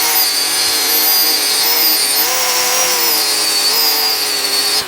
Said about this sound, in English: Harbor Freight Bauer 4-inch angle grinder with a belt sanding attachment on it that I use for this